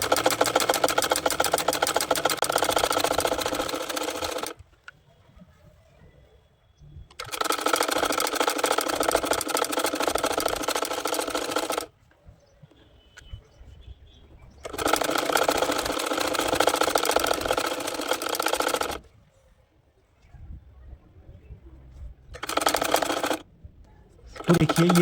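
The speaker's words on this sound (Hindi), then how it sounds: "अब मैं इसके ऊपर इस तरीके से सिलाई लगा दूंगा।" A sewing machine stitches lace onto a bridal lehenga made from simple fabric, running in three long, steady bursts of several seconds each and a short final burst, separated by quiet pauses, close and fairly loud.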